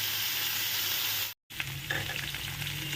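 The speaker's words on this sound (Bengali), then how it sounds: "যখন ফ্রাই করব, এই ধরনের এই প্রিপারেশনে ফ্রাই করতে গেলে কিন্তু ফ্লেমটা একদম হাইতে দিয়েছি" Cauliflower fries on a high flame, giving a loud, dense sizzle that cuts out briefly and then returns with stirring scrapes and crackles close by.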